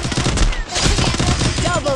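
Rapid gunshots in the mobile battle royale game Free Fire MAX, loud and close in quick bursts, with a voice talking underneath.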